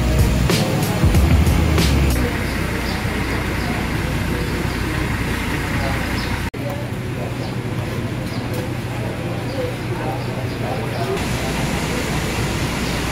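Buses idling and moving at the Kajen bus terminal, a steady broad rumble of engines and traffic with a louder pass early on and someone talking throughout.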